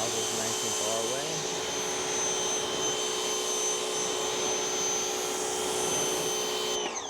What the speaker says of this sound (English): now we've equipped our Ridge washer with the 40-degree nozzle. We're gonna wash it all off.